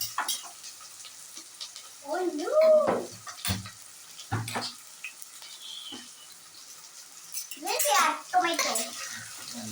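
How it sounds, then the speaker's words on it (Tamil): Onions with fennel and cloves sauté in a pan for biryani, a steady soft sizzle running under a child's and an adult's voices talking throughout. "வெங்காயம் கொஞ்சம் ப்ரௌன் ஆகிற அளவுக்கு வதக்குறோம்"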